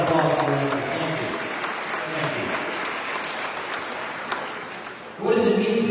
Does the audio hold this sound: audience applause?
yes